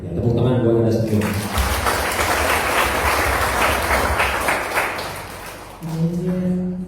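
Applause from an audience at a Buddhist temple Dharma ceremony in Pekalongan, Indonesia, a steady broad wash of clapping that swells for several seconds between stretches of someone speaking.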